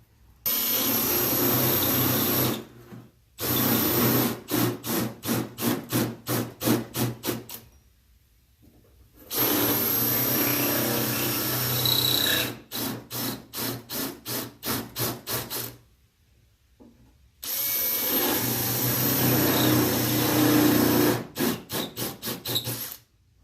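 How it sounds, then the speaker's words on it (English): A spot weld cutter drills out spot welds on a rusty car door panel, whining in loud sustained bursts with rapid pulsing chatter between them and short silent pauses, close and alone. "it doesn't take too much pressure to cut these spot welds out"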